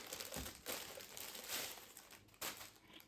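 Plastic and packaging crinkle and crumple as a ZKTeco K60 fingerprint and RFID access control terminal is unpacked, in close, irregular bursts of rustling with brief pauses between.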